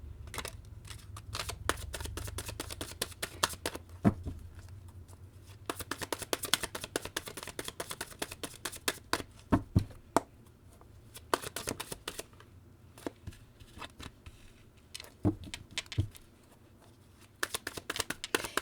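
Tarot cards are shuffled close by in quiet, intermittent bursts of crisp clicks and riffles with short pauses between.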